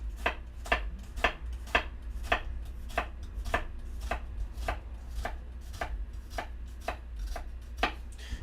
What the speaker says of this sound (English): make vertical slices in that shallot